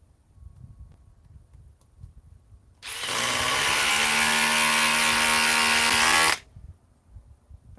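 A power driver sinks a 1/4 by 3.5 inch screw in one loud, continuous burst of about three and a half seconds, with quiet room noise before and after.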